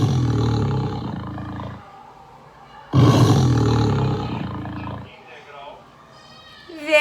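A tiger roars twice close up, each a deep, powerful, rumbling growl lasting about two seconds, separated by a quieter pause, with a softer growling tail and breathy sound at the end.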